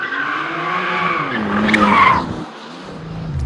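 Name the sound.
BMW sports car sliding its tail out, tires skidding in a bend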